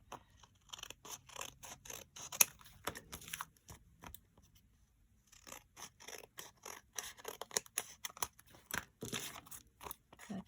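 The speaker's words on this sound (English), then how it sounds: "We're going to cut the top flap open." Scissors cut open the top flap of an envelope made from junk mail, a close series of crisp snipping and crunching paper sounds with short pauses between cuts.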